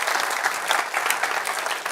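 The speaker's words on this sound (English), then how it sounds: "You can clap for that." An audience in a conference room applauds, a dense steady patter of many hands clapping together at even loudness for the whole stretch, with no one speaking over it.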